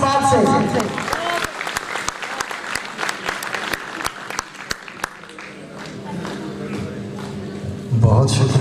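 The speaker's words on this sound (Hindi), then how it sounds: "आपकी भरपूर तालियों में तशरीफ लाते हैं जहाज़ेब साहिब फैसलाबाद से" At a mushaira poetry gathering in Sialkot, the audience welcomes a poet with strong clapping that later thins into scattered sharp claps, while someone speaks over it.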